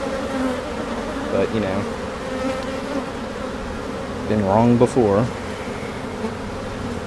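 Honeybees hover over a hive frame full of stored nectar, a steady dense buzz with a few louder passes near the bees, while someone talks over it briefly.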